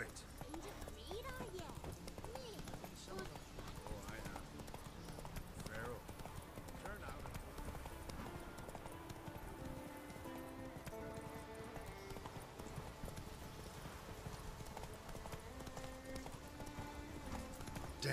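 Roach, a horse in The Witcher 3, gallops under steady in-game music, with continuous clip-clop hoofbeats and a faint whinny, while voices speak over the action.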